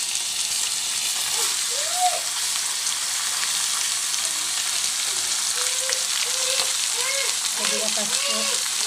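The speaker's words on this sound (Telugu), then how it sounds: "చికెన్ ఫ్రై చేసే విధానం: కొద్దిగా ఆయిల్ వేసి ఆవాలు, కరివేపాకు" Chicken fries in oil with mustard seeds and curry leaves, giving a steady close sizzle and crackle with scattered pops, while a voice talks faintly now and then beneath it.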